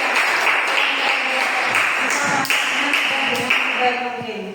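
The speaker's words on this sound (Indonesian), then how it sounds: "tepuk tangan untuk kelompok 3" A classroom applauds group 3 during an Islamic religious education lesson, dense clapping from many students that stays loud and even, with voices mixed in, then fades slightly at the end.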